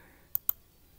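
A computer mouse clicks twice in quick succession, crisp and close, against near silence.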